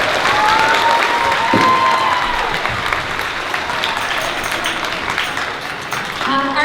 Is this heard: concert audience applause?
yes